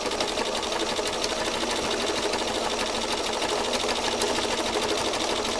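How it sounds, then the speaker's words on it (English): Sewing machine running steadily as it stitches a line of stitching through fabric, a fast, even, continuous mechanical whirring close by with no pauses. "we're going to do one more line of stitching here"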